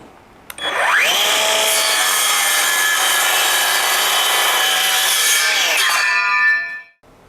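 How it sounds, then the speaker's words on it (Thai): A SKIL 6.5-inch cordless circular saw spins up with a click, then cuts through wood at a 45-degree bevel in one loud, continuous whining rasp lasting several seconds before winding down. "เจ้าตัวเรียกวงเดือนไร้สาย 6 นิ้วครึ่งของสกิลตัวนี้นะครับ ตัดดีจะเห็นว่า การตัดเนี่ยตัดได้ง่ายมาก"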